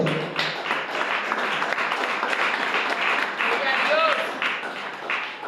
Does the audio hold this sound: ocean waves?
no